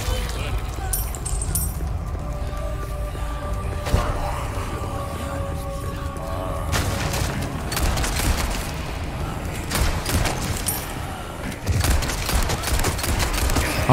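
Gunfire in Resident Evil 4 Remake: scattered sharp shots and bursts crack through a busy, noisy game mix while players talk over the action.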